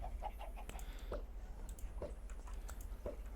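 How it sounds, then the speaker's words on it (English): Minecraft chickens cluck in short, repeated bursts, a quick run of soft clucks followed by a few scattered louder ones over a low steady hum. "there's some chickens over here"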